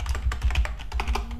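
Rapid keystrokes on a computer keyboard entering a Git commit command in a console, a quick run of close, clicky taps ending with the Enter key, with no talking.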